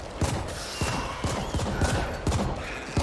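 Rapid bursts of gunfire from the video game The Ascent crackle in uneven volleys, dense and continuous over a busy, noisy game soundscape.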